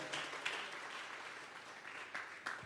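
A church congregation at a Sunday afternoon service gives a round of applause to God. The clapping is steady and moderately distant and holds throughout, with a few sharper claps standing out.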